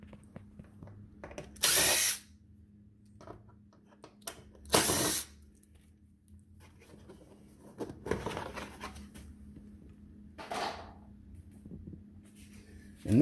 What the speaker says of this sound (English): This is a T20 for these two screws here.